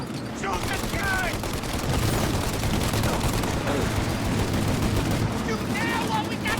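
Sustained gunfire from a shootout in Mafia Definitive Edition, with dense rapid bursts of shots over a continuous roar; voices shout through the firing.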